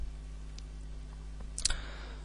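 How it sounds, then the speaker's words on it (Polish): A single crisp computer mouse click lands near the end of a quiet stretch of faint room hum, with no talk. "Klikamy."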